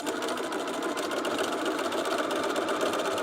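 A cover stitch sewing machine runs steadily, stitching elastic on underwear at a 0.7 differential setting, with a continuous, close, even motor whir and rapid needle chatter and no pauses.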